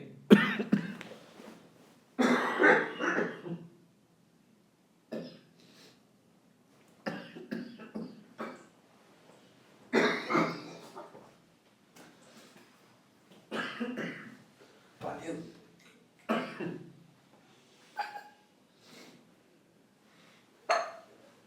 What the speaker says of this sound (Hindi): तबीयत खराब है, इतनी खांसी आ रही है।